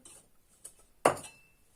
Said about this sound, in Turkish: Şimdi malzemelerini karıştırmaya başlıyorum